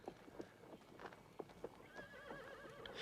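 Horse sounds with a few hoof clops early on, then a wavering whinny rising over the last second, fairly close and clear.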